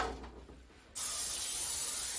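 Cooking spray is sprayed onto a baking pan being prepared for chicken parmigiana. A quiet start gives way to one sudden, sustained, close hiss that runs steadily to the end.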